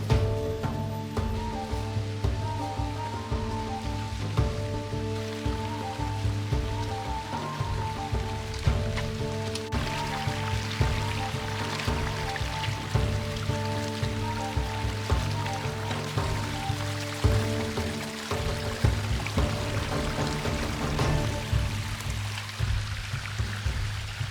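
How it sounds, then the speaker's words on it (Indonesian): A river stream runs steadily nearby while bamboo shoots are washed in it, a continuous rushing, splashing flow with a faint tonal hum underneath. "membawa semua rebungnya ke aliran sungai untuk segera dibersihkan"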